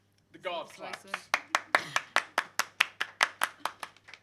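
A guard claps, first a few soft scattered claps and then a steady run of about a dozen sharp, evenly spaced claps close by.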